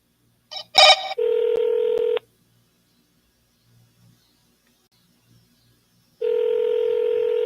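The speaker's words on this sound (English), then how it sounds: "And double dial that one right quick." A telephone call to a seller is dialed: a quick burst of keypad tones, then a loud, steady electronic tone, a gap of near silence, and the same steady tone again, all close and without talking.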